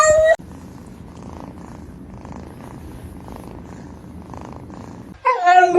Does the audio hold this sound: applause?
no